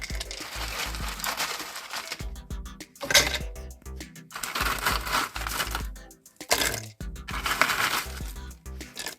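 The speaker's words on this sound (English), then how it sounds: "we're going to blend it up into a powder" Dried jerky is ground into powder in a blender, with loud, harsh, crunchy whirring bursts separated by brief stops, close up.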